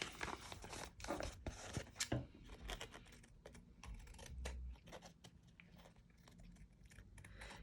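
Paper is trimmed along an envelope edge for a mini flip journal, making close, quiet snipping and rustling sounds in quick irregular bursts with no talking.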